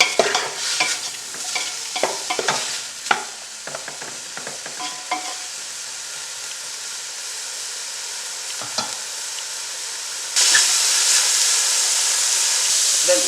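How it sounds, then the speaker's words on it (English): Mushroom stems fry in a pan, with a stirring utensil clattering and scraping against it at first. A steady hiss of sizzling follows and grows louder near the end. "we are also going to fry those stems right here until they also become more tender"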